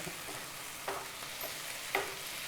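Eggplant (brinjal) frying in hot oil, giving a soft, continuous sizzle with a couple of light stirring clinks from a utensil in the pan.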